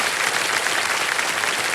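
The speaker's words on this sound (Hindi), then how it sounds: "ताली बजती रहे देवियों सज्जन" A studio audience on the KBC game show applauds, a dense, even wash of clapping that holds steady and loud throughout.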